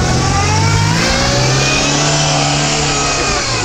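A GAZ Sobol 4WD van stuck in deep snow revs its engine hard and continuously, the loud, strained drone rising and wavering in pitch throughout, close up and alone.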